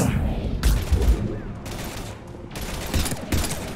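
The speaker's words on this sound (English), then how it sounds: "We're taking heavy fire." Gunfire in a Mass Effect 3 battle, with rapid bursts of shots over a heavy rumbling low-end background and a faint voice underneath.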